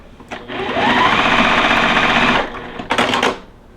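A sewing machine stitches a quilt block in one steady, loud, whirring run of about two seconds, then a short second burst after a brief pause. No one speaks over it.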